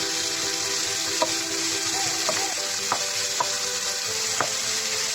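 Onions frying with chicken curry powder in a pan give a loud, continuous sizzle close up, with a few soft taps and scrapes of stirring and no voices.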